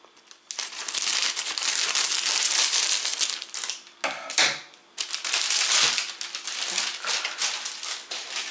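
Documents in plastic packaging are unwrapped from the box of a Midea MCFD42900BL mini dishwasher, giving close, loud, continuous crinkling and crumpling with a brief pause midway before the rustling resumes.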